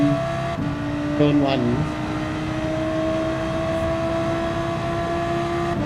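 A race car engine in Gran Turismo 7 holds a steady mid-throttle drone with a constant harmonic tone, briefly rising in pitch around the second mark, while someone talks over it throughout.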